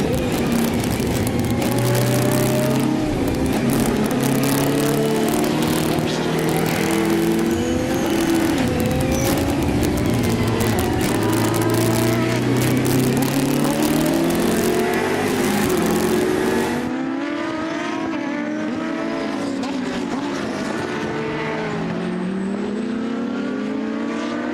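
Porsche and BMW race cars roar past on the Most circuit during a FIA CEZ endurance race, engines howling through overlapping upshifts and passes, then one car's note fades as the field moves away.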